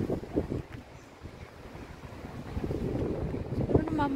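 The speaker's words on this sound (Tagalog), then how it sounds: "Sobrang mahangin" Gusty wind buffets the microphone with low rumbling bursts, steady and loud, with faint voices underneath.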